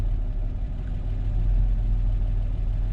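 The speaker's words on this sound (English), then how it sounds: "You hear my truck?" A truck engine idles roughly with a steady low rumble and uneven pulsing, close and continuous with no talk over it.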